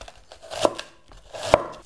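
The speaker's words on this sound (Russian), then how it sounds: "я вот решила это сделать ножом тоненькими полосочками" A knife cuts cabbage into thin strips for sauerkraut on a board, giving a few crisp, close chopping strokes with short pauses between them, with no voice present.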